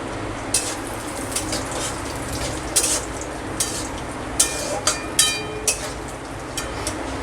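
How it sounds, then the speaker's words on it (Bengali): Cashews and whole garam masala spices fry in a pan, a steady hissing sizzle with scattered clinks and scrapes of a stirring spoon against the metal, close and continuous throughout. "আমি কয়েকটা গরম মশলা ফোড়ন দিয়ে দিলাম, আর দিয়ে দেব কাজুটা। কাজুটা একটু ভাজা ভাজা হলে"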